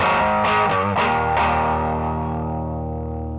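Overdriven Stratocaster chords through a Twin Reverb amp with a Tube Screamer pedal and spring reverb, several strummed chords in the first second and a half, then a long ringing sustain that slowly decays with a wash of reverb.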